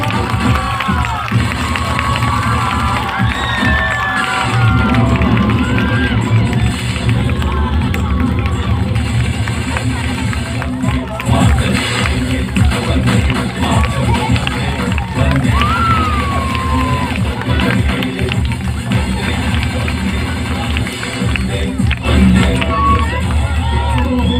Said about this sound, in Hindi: जोरदार तालियां हो गई